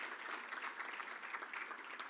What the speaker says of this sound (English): For another proper round of applause